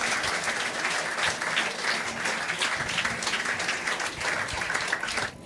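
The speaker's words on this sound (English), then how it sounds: "Please, a round of applause." A crowd at a Q&A event with guitarist Scott Henderson at Shaka Zulu in Camden applauds him, dense, steady clapping sustained for several seconds and fading slightly at the close.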